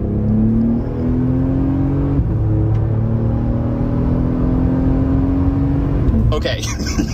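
A Toyota Tundra pickup pulls hard at half throttle, engine note rising steadily from inside the cab, a loud continuous drone that climbs in pitch before a rattling shift near the end, with a voice heard at times.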